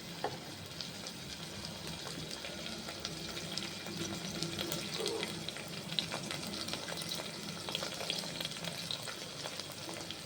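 Tomatoes cook in a pan for pepper rasam, giving a steady quiet sizzle and bubbling with light stirring scrapes throughout, and no voices.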